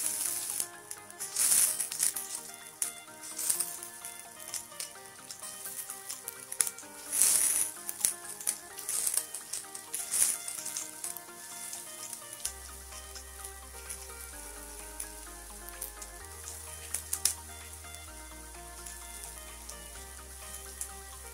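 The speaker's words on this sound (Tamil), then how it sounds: "எண்ணெய் சூடானதும் இந்த கிழங்குங்களை ஃப்ரை பண்ணுங்க." Taro root (arbi) pieces frying in hot oil, a steady crackling sizzle with sharp bursts of popping throughout, fairly loud and close, with a low background hum joining later.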